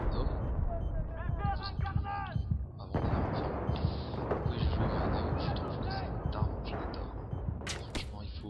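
Gunfire in the video game Opération métro: several sharp shots and bursts ring out across a busy, loud game soundscape, with a voice talking over parts of it.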